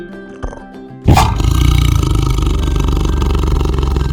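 A loud, close tiger roar bursts in after a second of near silence and holds as a long, rumbling growl to the end, with no voices over it.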